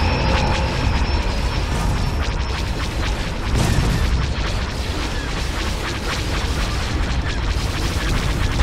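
A starship is destroyed in a Star Wars space battle game, a loud sustained explosive boom and rumble that swells midway and stays dense and roaring throughout, with no talk.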